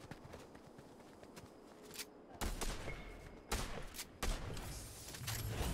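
Bursts of gunfire crack in the video game Fortnite, several loud volleys in quick succession after a quieter stretch of footsteps and shuffling.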